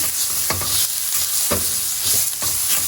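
Minced garlic and shallots fry over medium-low heat in a pan with a steady loud sizzle, broken by three spatula scrapes and stirs at about one-second intervals.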